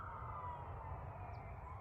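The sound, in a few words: ambulance siren passing by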